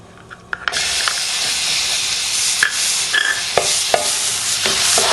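Garlic hits hot oil in a pan and bursts into a loud, steady sizzle that holds for several seconds, broken by occasional spatula scrapes and small pops, close up with no voices.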